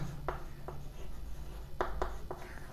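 A marker squeaks across a classroom board in short separate strokes, several quick bursts spaced apart over a steady background hum, with no talking.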